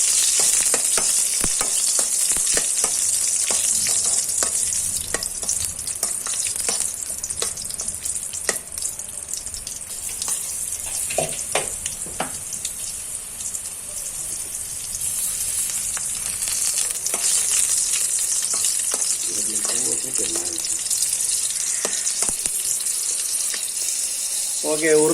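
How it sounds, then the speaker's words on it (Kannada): Black pepper and chillies frying in hot ghee give a steady, loud hiss and crackle, with scattered pops and occasional stirring scrapes and a few clinks, close by and lasting the whole stretch. "ಈಗ ತುಪ್ಪ ಹಾಕಿದ ನಂತರ ಮೊದಲನೇದಾಗಿ ಮೆಣಸು ಮತ್ತು ಕಾಯಿ ಮೆಣಸನ್ನು ಒಟ್ಟಿಗೆ ಹುರಿಯುವ."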